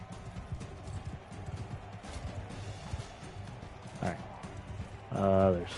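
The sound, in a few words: horse hooves in Mount and Blade 2 Bannerlord video game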